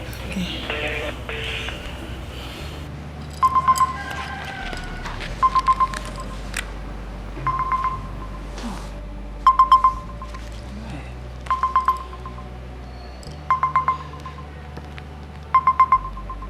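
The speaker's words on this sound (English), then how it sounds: "Oh, it's ringing." A telephone ring tone sounds through a phone line, repeating in regular short double bursts about every two seconds over a low steady hum.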